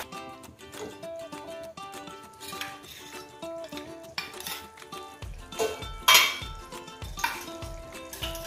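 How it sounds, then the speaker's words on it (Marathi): Spoon stirring and scraping puree for paneer makhanwala bhaji as it roasts in a pan, soft clinks and scrapes heard beneath steady background music. "छान तेल सुटेपर्यंत आपल्याला ही प्युरी भाजून घ्यायची आहे"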